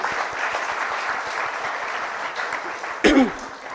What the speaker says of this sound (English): I think it's a big round of applause to them